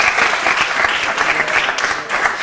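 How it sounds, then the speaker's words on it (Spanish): Loud, dense audience applause for a young interview guest on a university show, an even sustained crackle of many hands clapping close by throughout. "Un aplauso para ella"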